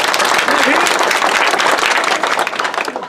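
A crowd at a public political speech claps in dense, loud, continuous applause that fades slightly toward the end.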